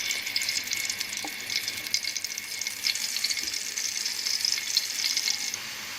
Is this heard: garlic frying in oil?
yes